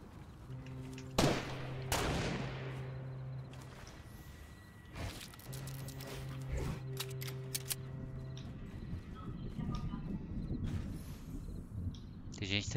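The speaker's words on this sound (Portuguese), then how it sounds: "os caras estão tirando de sniper lá" Sniper rifle shots in Fortnite, several sharp cracks spread across a busy match, with steady tonal game sounds and rising noise toward the end.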